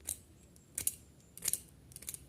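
Scissor blades scrape along enamel-coated copper wire in a few short, sharp bursts with pauses between, close and quiet against a hushed room.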